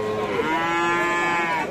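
An eight-month-old crossbred Friesian bull calf at a rural cattle market gives a single clear, drawn-out moo, close and loud, with no talk over it.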